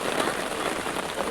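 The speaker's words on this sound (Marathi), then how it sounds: "आणि वापस पाऊस चालू झाला." Rain patters steadily on surfaces outdoors in a valley during a meal, a dense even hiss with no voices.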